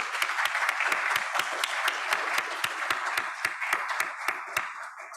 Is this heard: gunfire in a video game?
no